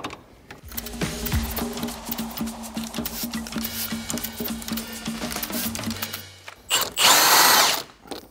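A power tool loosening 16 mm bolts on a Volkswagen VR6 engine, a steady whirring drill drone with ratcheting texture for several seconds, close and loud, ending in a brief higher-pitched burst.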